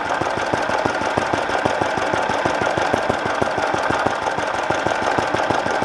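An old Fowler PA1 engine idles at about 750 rpm, a loud, steady, rapid knocking beat of exhaust pulses continuing throughout with no voices.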